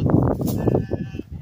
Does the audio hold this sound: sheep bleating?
yes